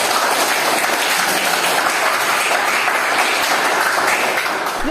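Students in a junior high classroom at SMPN 1 Pagar Dewa give a round of applause after a lesson on cubes and rectangular prisms, loud, close, continuous clapping that carries on evenly for the whole stretch.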